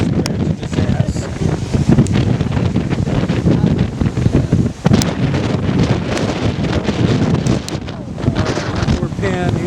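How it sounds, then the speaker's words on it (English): Strong coastal wind of about 40 to 50 mph at San Simeon buffets the microphone in loud, continuous gusts, with ocean surf faintly underneath and a voice briefly heard. "Wind about 40, 50 miles an hour."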